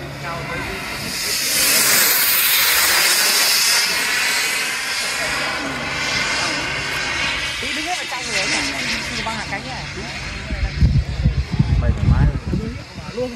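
A mini jet engine on a MiG-29 model airplane in flight, a loud, steady, airy roar and hiss that rises and falls, with people talking over it and heavy wind buffeting near the end.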